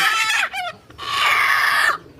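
Sick chickens cluck loudly and close by as they are caught, with a short squawk followed by a longer drawn-out cackling call.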